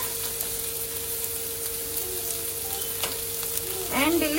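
Carrot, beans and capsicum frying in a hot pan give a steady close sizzle throughout, with a brief spoken phrase and a louder crackle of stirring near the end.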